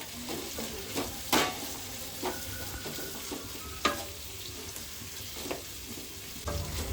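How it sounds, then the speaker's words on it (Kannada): Capsicum frying in oil in a pan, a soft steady sizzle punctuated by several sharp spatula scrapes and clinks as it is stirred, close and fairly quiet, no speech. "ಇವಾಗ ಕ್ಯಾಪ್ಸಿಕಮ್ ಕೂಡ ಹಾಕ್ಕೊಳ್ತಾ ಇದ್ದೀನಿ ಇದನ್ನು ಅಷ್ಟೇ ಒಂದರಿಂದ ಎರಡು ನಿಮಿಷ ಚೆನ್ನಾಗಿ ಫ್ರೈ ಮಾಡ್ಕೊಳ್ಳೋಣ"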